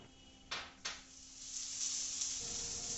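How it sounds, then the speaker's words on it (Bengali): Onions fry in oil in a wok, a soft, rising sizzle after two sharp clinks, growing steadier and fuller toward the end. "এবার পেঁয়াজটা একটু লাল করে ভেজে নিলাম।"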